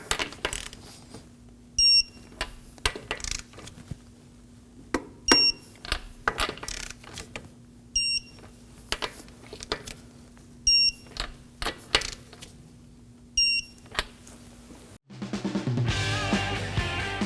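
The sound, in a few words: torque wrench tightening wheel nuts on Kia Sorento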